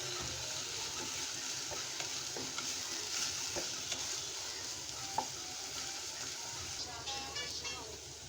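Onions fry in oil with salt for a rohu fish and potato curry, giving a steady, fairly quiet sizzle with occasional light scrapes of a spoon against the pan.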